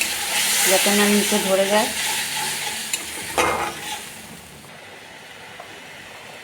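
Ginger garlic paste and a splash of water sizzle loudly in a frying pan while being stirred, a close, hissing fry with scraping strokes that fades toward the end; someone speaks briefly over it.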